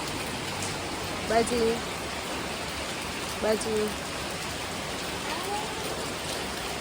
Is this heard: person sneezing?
no